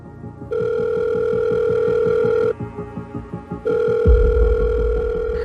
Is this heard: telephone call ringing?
yes